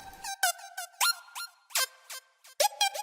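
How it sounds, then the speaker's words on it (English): Short synthesizer notes gliding in pitch with portamento, a series of bright staccato blips and slides with gaps of silence between them, close and clear with no voices. "this guy up here, portamento, sounds like this."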